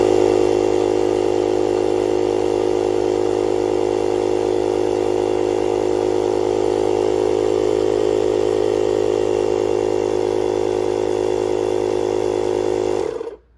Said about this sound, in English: We're going to turn the compressor on and see what happens just to see how it stored the battery.